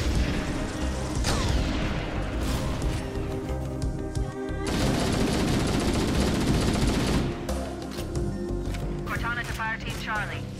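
Sustained video-game gunfire from Halo: Combat Evolved, dense bursts and booms rolling loudly through a battle scene with music and effects layered underneath.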